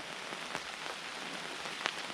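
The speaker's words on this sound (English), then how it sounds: "it's raining." Steady rain falls on a hiking trail near Black Lake, a dense, even patter of drops with a few louder nearby splats, no voices.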